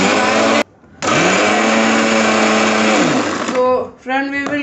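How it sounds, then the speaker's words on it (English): A mixer grinder whirs loudly while crushing Oreo biscuits, running in two steady high-pitched bursts split by a brief pause, then winding down as a voice speaks over it. "take this to mixie and crush it"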